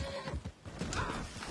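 A horse in a video game, with hoof clip-clops and a neigh, moderately loud under constant game noise and without clear talk.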